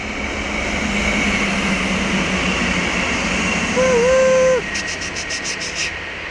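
An electric train crosses a small stream bridge near an embankment with a steady loud rumble and a tonal whine. A horn-like tone rises midway and fades into clatter.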